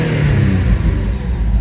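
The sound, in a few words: Alfa Romeo car engine revving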